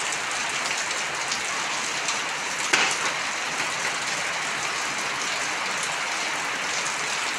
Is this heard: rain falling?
yes